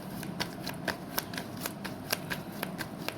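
Tarot cards are shuffled by hand in rapid, crisp riffling bursts, about ten quick flicks in a steady rhythm, close and clear with no talking.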